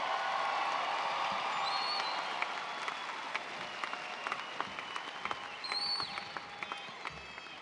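A graduation ceremony crowd claps at a moderate distance, a steady patter of many hands with scattered louder claps and a few whistles and cheers mixed in.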